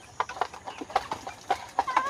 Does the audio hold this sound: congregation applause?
no